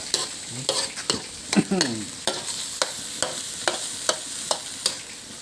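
Fish being stir-fried in a pan, a run of sharp scraping spatula strokes against the metal at a steady pace over a soft background sizzle, close and moderately loud, without talk.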